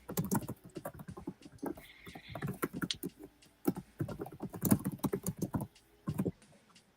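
Keys being typed on a computer keyboard in quick irregular bursts, close and fairly faint, with pauses between runs of keystrokes.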